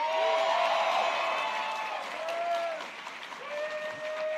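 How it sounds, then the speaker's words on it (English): A large Sonic fan audience at an Anime Expo panel cheers and applauds, a broad wash of clapping mixed with whoops and a few long shouted cheers, loud and sustained throughout. "That's the easiest cheer you will ever get out of a Sonic audience."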